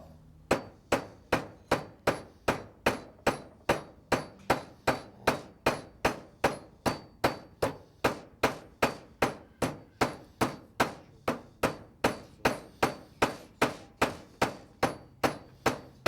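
Steady, rapid hammer blows ring out one after another at an even rhythm, close and sharp, continuing without pause and with no talking.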